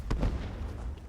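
Grenade going off in the space game Starfield, a short muffled boom with a low thud and brief rumble amid background game noise.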